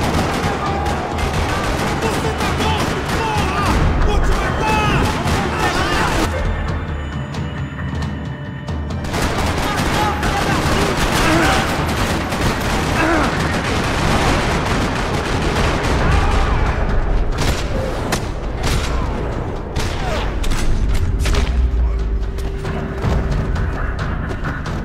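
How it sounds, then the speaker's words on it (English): Gunfire rattles through a parking lot in the video game Max Payne 3: dense, loud bursts of shots and booms keep going without letup, with brief shifts in the mix and some faint voices. "Another parking lot rattling with gunfire."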